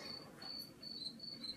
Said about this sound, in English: I really like the Christmas crickets.